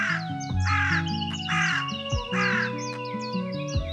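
A cartoon crow sits in a tall peepal tree in a sunlit forest, cawing in repeated harsh calls over layered background music.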